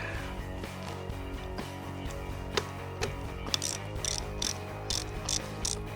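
Tightening the outer mounting bolt of a retractable lap belt in a classic car, with a ratchet wrench clicking in short bursts of sharp ticks amid faint background hum, nearby and fairly quiet.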